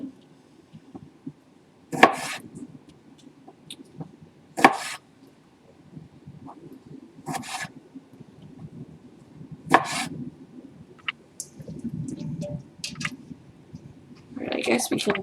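Several sharp, separated knife chops through onion on a board, irregularly spaced, with quiet handling noises and some talking in between.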